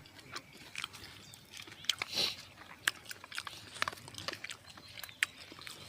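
A dog eats food outdoors among trees, with close, quiet chewing and crunching bites in an irregular rhythm, several sharp clicks, and a brief louder snort or movement partway through.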